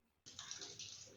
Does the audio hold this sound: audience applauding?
no